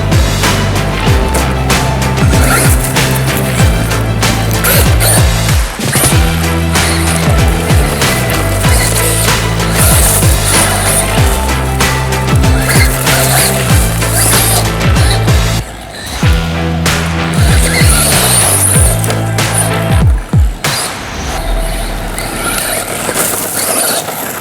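A Tamiya Blitzer Beetle RC car with a brushless motor drives continuously, a loud high-pitched electric whine rising and falling with speed, plus gritty wheel and surface noise throughout.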